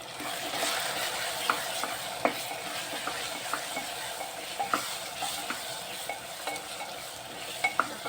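A spiced potato and spinach curry is stirred in a pan, the spoon scraping and clinking in irregular close taps over a soft, steady sizzle.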